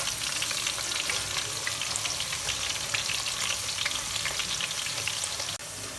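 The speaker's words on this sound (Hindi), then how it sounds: "इनको भी इसी तरह से हम फ्राई कर लेंगे 1 मिनट तक।" Black lentils fry in hot oil for a nimko snack mix, a dense continuous sizzle with crackling pops, close and loud, stirring audible and no voice over it, dipping slightly just before the end.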